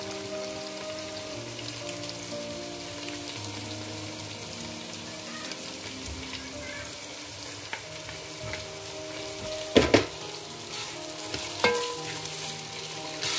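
Chicken for poulet DG, the Cameroonian dish, frying in a pan with a soft, steady sizzle throughout, plus a couple of brief clinks or stirring knocks near the end.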